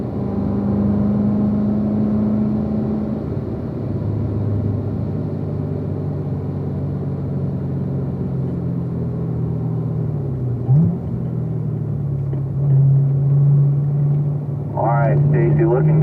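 A Camaro race car accelerates on a track, its engine droning steadily and rising in pitch through the gears, heard from inside the car under continuous talking.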